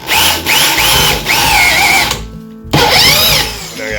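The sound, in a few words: drilling a hole into wood for a mortise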